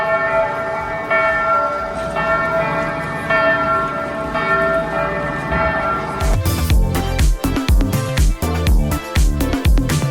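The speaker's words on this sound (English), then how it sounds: "You can hear the bells going off there." Church bells ring loudly and continuously in Vilnius Old Town, Lithuania, a sustained wash of overlapping tones that turns into denser, clanging strikes near the end.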